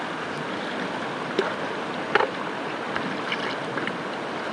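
Steady rushing water from a nearby river while dishes are washed in it, a continuous broad hiss with a few faint knocks and splashes scattered through it.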